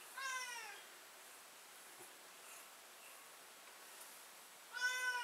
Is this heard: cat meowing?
yes